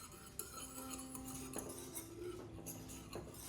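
Butter melting for caramel is stirred in a pan, with a utensil scraping and clinking against the metal in steady strokes under a low background hum.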